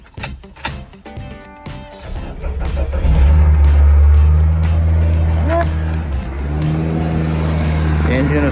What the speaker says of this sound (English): The engine is purring,